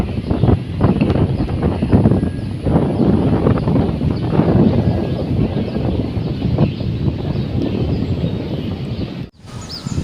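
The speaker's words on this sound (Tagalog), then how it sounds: "Mahangin sa labas." Strong wind roaring and buffeting a microphone at Supertree Grove, Gardens by the Bay, Singapore, a continuous loud rumbling gust that cuts out briefly near the end.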